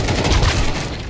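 Gunfire in Counter-Strike on the de_Vertigo map comes as a dense, loud burst of rapid shots packed together into a continuous crackle.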